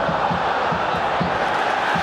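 Football crowd at an Old Firm match between Rangers and Celtic in Glasgow, a dense roar of fans with rhythmic, pulsing chanting or clapping beats about twice per second.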